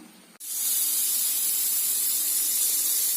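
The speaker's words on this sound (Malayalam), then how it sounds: "കുക്കറ് 4 തവണ വിസിലടിച്ചു" A sudden, loud, continuous hiss of steam jets from a pressure cooker whistle after a short quiet start and holds steady at close range, with no voices.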